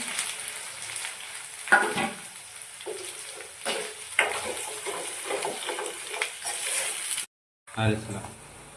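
Ginger garlic paste and tomato paste frying in a pan for egg curry, a steady close sizzle with occasional stirring scrapes and clatter, cutting out briefly near the end before resuming.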